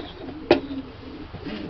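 Racing pigeons in a loft give one short, fairly loud coo near the middle, followed by soft murmuring calls toward the end over a low background hum.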